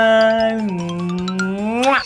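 A voice imitates a ringing bell, making a sustained, bright ding-like tone that bends slightly in pitch and ends with a rising flourish, loud and close.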